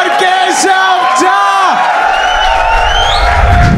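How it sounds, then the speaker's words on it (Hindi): A loud crowd at a live comedy talent show cheering and whooping for a contestant, with raised voices and yells layered over music-like tonal sounds close up. "Make some noise for Keshav Jha."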